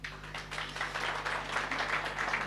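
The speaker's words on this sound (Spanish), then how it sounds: "Gloria a Dios, aplausos." Church congregation applause during a Sunday service, a steady wash of clapping from many hands, faint and somewhat distant over a low hum, with no speech over it.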